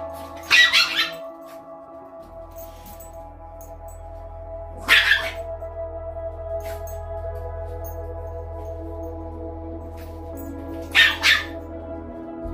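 A teacup-size Yorkie barks in three short sharp bursts spaced several seconds apart while playing with a giant puppy indoors, over a steady low hum.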